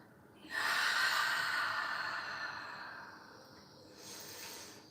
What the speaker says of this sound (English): taking a final deep breath in and an audible breath out